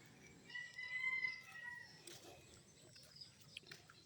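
A rooster crowing outdoors, one drawn-out call at moderate distance followed by quieter scattered rustling and background noise.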